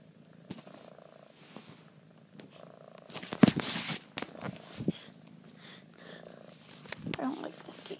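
A cat purrs in a soft, low, continuous rumble close by, broken by a few louder rustles and handling noises partway through; a person speaks briefly over it.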